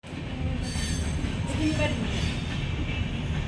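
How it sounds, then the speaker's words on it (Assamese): A train rolls past on a railway line right beside a house, a continuous loud rumble of wheels on track with metallic squeal and clatter throughout. "আমাৰ ছাইডতে এইফালে ট্ৰেইন লাইন আছে।"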